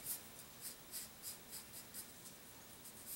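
A pencil drawing on paper, quiet rhythmic strokes scratching back and forth about twice a second, close and faint with no talking.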